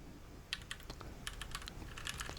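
Quiet, irregular clacking of a Keychron Q6 mechanical keyboard, a quick burst of crisp keystrokes with no talking.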